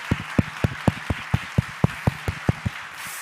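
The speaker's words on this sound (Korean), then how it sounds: "이쪽에 있는 우리 친구들 위해서 박수." A church congregation at a prayer service claps for a group of children, with rhythmic, fairly even handclaps of moderate loudness running steadily throughout and no talk over them.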